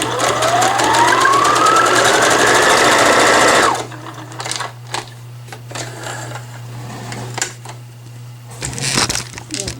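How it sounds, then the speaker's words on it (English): Sewing machine stitching scrunchie fabric along the edge of the presser foot, a steady loud mechanical whir for nearly four seconds that stops abruptly, leaving faint handling clicks and taps. "you're gonna line up the edge of your fabric with the edge of the foot and then sew"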